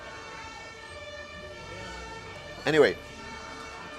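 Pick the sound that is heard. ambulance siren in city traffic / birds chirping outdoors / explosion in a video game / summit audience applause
ambulance siren in city traffic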